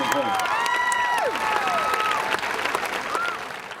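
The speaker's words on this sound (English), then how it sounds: "Let's give a big round of applause for our 2010 homecoming court" Audience applause and cheering for the 2010 homecoming court and queen at a high school football game, steady crowd clapping throughout with whistles and voices mixed in.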